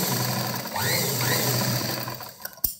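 Sewing machine stitching a slanted seam, a steady close mechanical whir running continuously before ending with a sharp knock.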